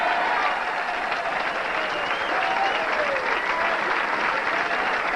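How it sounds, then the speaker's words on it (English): Appreciative crowd applause at a bowling alley during a 1990 PBA tournament in El Paso, a steady dense clapping that runs the whole stretch at moderate loudness. "Appreciative bowling crowd here at Bowl El Paso"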